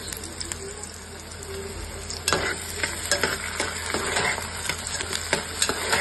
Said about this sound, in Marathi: छानपैकी ह्याला थोडंसं गोल्डन होईपर्यंत फ्राय करणार।